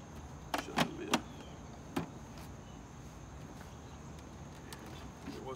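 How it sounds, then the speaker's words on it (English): The plastic lid of a Dolphin Active 30 robotic pool cleaner is shut during maintenance: a quick cluster of close clicks and a snap, then one more click, with quiet hiss afterward. "Shut the lid."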